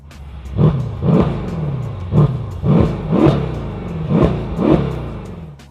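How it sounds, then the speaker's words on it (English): A Mercedes-AMG E63 bi-turbo engine revs hard in six rhythmic blips, each rising to a loud throaty roar and dropping back to a deep rumble between, close and alone. "Even the later bi-turbo E63 still sounds pretty good."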